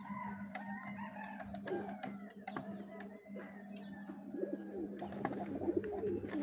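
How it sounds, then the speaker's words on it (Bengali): Pigeons cooing softly nearby in a pigeon loft, with a low steady hum underneath and occasional fluttering and scuffling sounds mixed in. "কবুতরগুলা"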